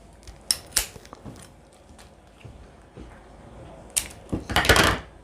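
Scissors snip through the excess plastic of a poultry shrink bag wrapped around a packaged quail, a few crisp cuts spaced out and then a louder rustling burst of plastic near the end, close and alone.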